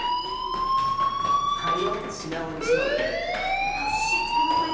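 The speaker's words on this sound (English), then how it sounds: "Hey, do you hear that fire alarm?" A fire alarm in the video game Life Is Strange, set at Blackwell Academy, sounds a continuous wailing electronic tone that rises and falls, with a voice speaking over it.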